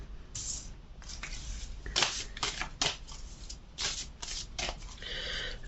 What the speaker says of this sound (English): I might just draw 9 cards altogether.